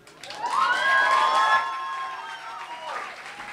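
A crowd claps and cheers, with whoops and shouts rising over the applause before it fades a little.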